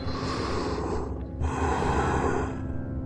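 Heavy, close breathing over a phone call, with a sharp snorting inhale and a long exhale, heard through a slightly tinny, narrow line.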